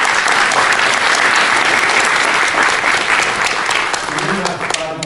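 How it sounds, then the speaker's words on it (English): A conference keynote audience breaks into loud, sustained applause that holds steady and fades slightly toward the end, with no voices heard over it. "Give him a round of applause for that."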